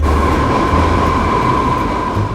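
Loud, steady subway train noise in a station, with a deep rumble and a sustained metallic whine running throughout.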